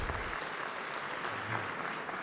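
An audience at a farmers' award ceremony breaks into dense, even applause, a full room clapping loudly and steadily throughout with no voices on top.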